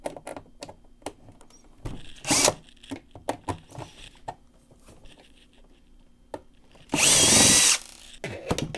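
A power screwdriver removes two screws from the side panel of a coffee machine, giving two short whirring bursts, the second longer and louder, between light clicks and handling taps at close range.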